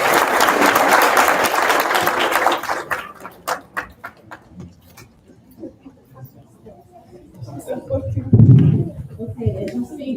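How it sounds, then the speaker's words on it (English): Applause for four graduates at a 2024 Sinai Chicago graduate medical education ceremony, a dense burst of clapping that fades into scattered claps and quiet room sounds, then swells briefly again near the end. "So if we can just have applause for our 4 graduates."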